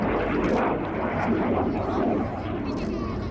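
A Eurofighter Typhoon at an airshow roars overhead in a broad, sustained jet rumble, loud and steady throughout, with a commentator talking over it.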